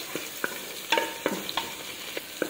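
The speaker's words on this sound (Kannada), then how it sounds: "ಫಸ್ಟು ಜಿಂಜರು ಮತ್ತು ಚಿಲ್ಲಿ ಮತ್ತು ಕರ್ಬೇವಿನ ಸೊಪ್ಪು ಇದು 3 ಒಟ್ಟಿಗೆ ಹಾಕಿ ಫ್ರೈ ಮಾಡ್ತೇನೆ" Ginger, chilli and curry leaves frying together in a pan for fish curry, a soft sizzle punctuated by irregular clicks and taps of a spoon stirring, with no speech.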